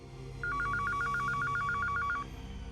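A telephone rings with a rapid warbling electronic tone, a steady train of short repeated pulses lasting about two seconds over a low background hum, with no talking.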